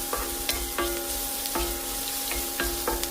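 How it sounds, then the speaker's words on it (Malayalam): Chopped ginger fries in hot oil in a pan for cabbage thoran, a steady sizzle broken by regular scraping strokes of a spoon stirring, close and with no talk. "അതിലേക്ക് ഇഞ്ചി പൊടിയായി അരിഞ്ഞത് ചേർക്കാം."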